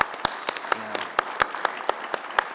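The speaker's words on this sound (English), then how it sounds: "another round of applause please for the state broadband directors" Scattered claps from an event audience applaud state broadband directors, sounding as distinct, sparse individual hand claps at an uneven rhythm rather than a full ovation, moderately close and fairly quiet.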